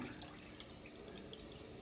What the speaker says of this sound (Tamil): இதுக்கு வந்து நான்கரை டம்ளர் தண்ணி விடுறேன்